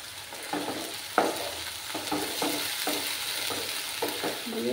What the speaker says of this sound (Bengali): এবার আমি আদা, রসুন, কাঁচা লঙ্কার পেস্টটা দিয়ে দিলাম।